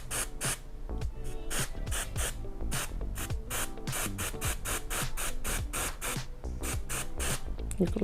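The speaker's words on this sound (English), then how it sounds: "And the spray also helps take out that little gap space where the hair is parted at, so it's seamless." Close bursts of aerosol hair spray hiss onto a hair part during a closure quickweave install, a long rapid series of short sprays in quick rhythmic succession, loud and near.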